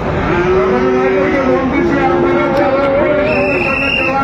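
A Sahiwal bull calf lows in one long, drawn-out moo with a wavering pitch, loud and close at a cattle market in Gazipur, with faint voices in the background.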